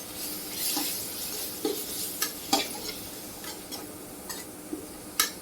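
Ground spices such as coriander, curry and cumin powder sautéing in a pan, with a soft continuous sizzle and scattered sharp scrapes of a spoon stirring against the metal, close and fairly quiet, no voices.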